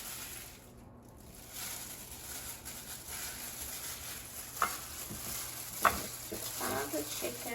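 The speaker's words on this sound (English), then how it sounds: "now I'm going to dip chicken in egg, then flour, and then put it on the frying pan." Chicken dipped in egg and flour sizzles quietly in a frying pan, a soft steady crackle with a couple of sharper pops and stirring scrapes.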